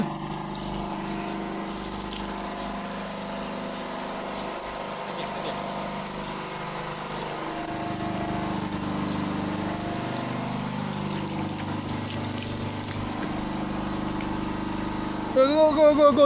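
Water pours and gushes steadily while a pet dog is bathed at home, a continuous rushing flow with a pump-like hum underneath and a short rattling burst at the end.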